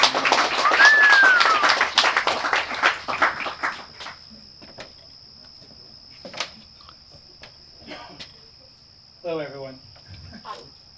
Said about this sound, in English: please give Trevor a big round of applause